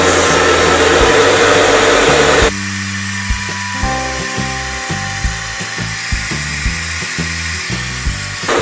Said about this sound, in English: It's always good to blow dry against the roots just so that to create more body on the hair.